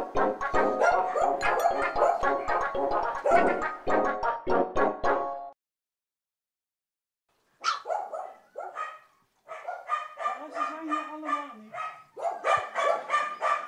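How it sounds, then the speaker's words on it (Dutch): Great White Keeshond dogs and puppies barking close by in rapid bursts, a run of loud yapping barks, a brief silence, then more scattered higher yips and barks with a short whine. "Vandaag ben ik bij de grote witte keeshond en ze hebben net een nieuw nestje gekregen."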